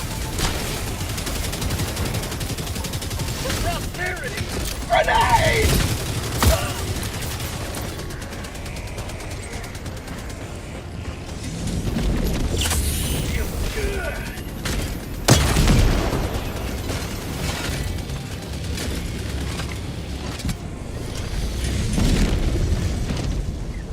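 Helldivers 2 battle noise: a deployed sentry turret rattles off bursts while grenades and other explosions boom repeatedly, loud and close, with sharp blasts near the middle and steady firing throughout, no talking.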